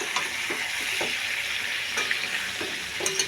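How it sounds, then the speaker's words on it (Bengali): Chicken is sautéed and stirred in a kadai with ginger added late, giving a steady, close sizzle with a few intermittent scraping clicks of the spoon. "তো দেখো আমি মাংসটা কত সুন্দরভাবে কষাচ্ছি"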